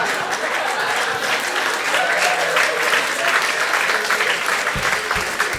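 A live audience at a Spanish-language comedy show applauds loudly and steadily throughout, a thick continuous roar of clapping with faint voices mixed in.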